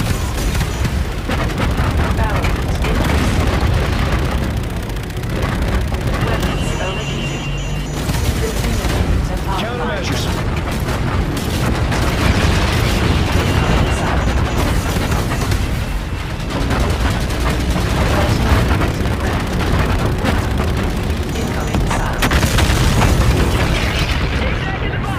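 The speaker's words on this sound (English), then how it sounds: "Incoming missile." Missile explosions and battle blasts roar through a Call of Duty: Infinite Warfare space-combat fight, a dense, continuous wall of booms and impacts with voices calling out over the din throughout.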